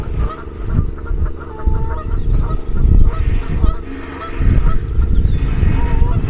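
Geese honking repeatedly and close by on a morning by a closed out-of-season seaside pleasure beach in Skegness, with roadworks machinery rumbling steadily underneath the calls.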